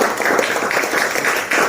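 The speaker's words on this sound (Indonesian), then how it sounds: "tepuk tangan." Steady, close clapping from a group of attendees at a company anniversary gathering, a short, dense burst of many hands without a pause.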